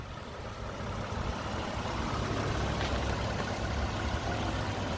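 A 2015 Toyota Sienna Sport front-wheel-drive minivan idles, a smooth, steady low engine hum with an even, constant level, heard up close with no talk over it.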